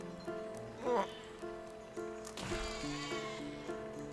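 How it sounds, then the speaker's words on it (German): Sheep bleating in the physics building game Besiege, a wavering bleat near one second standing out over steady game music, followed by a louder swoosh-like burst and continued in-game clatter. "Hau ab, du scheiß Schaf."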